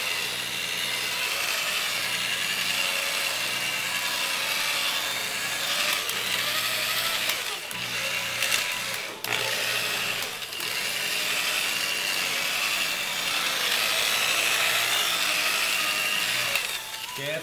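A polisher spins steadily on black Harley Davidson paint, first at its lowest speed and then a little faster, as it works buffing compound in a continuous whirring drone with a few brief bumps.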